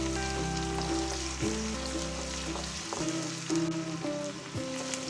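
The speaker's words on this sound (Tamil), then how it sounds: "எண்ணெய் காஞ்சதும் பச்சை மிளகாய், இஞ்சி, அப்புறம் நம்ம எடுத்து வச்ச கருவேப்பிலை 2 கொத்து மட்டும் இப்போ சேர்த்திக்கலாம்." Green chilies, ginger and curry leaves crackle steadily in hot coconut oil, a loud continuous sizzle with a few brief pops and clinks, and no voices over it.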